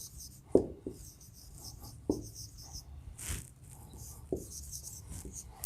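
Chalk writing on a board during an English grammar lesson, a few distinct close scratches and taps spaced about two seconds apart, with faint room sound between them.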